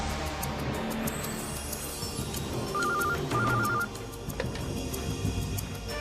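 A telephone rings in repeated electronic trills against a steady background hum, with no talking.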